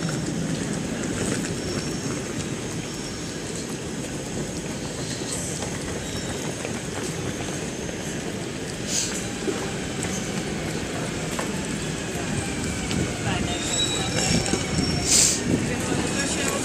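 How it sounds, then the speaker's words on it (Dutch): An Intercity Direct train pulls into Rotterdam Centraal station, a steady rumbling roll of wheels on rails with faint squeals, under low station ambience and occasional talk. "mijn trein die komt er nu aan"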